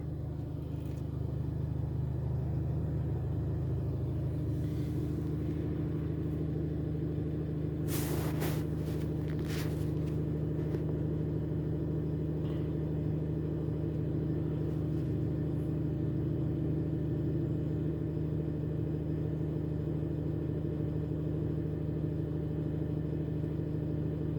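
Renault Master 3 with a 2.3 dCi diesel engine idling just after starting, a steady low rumble that runs without a break, with a few brief clatters partway through.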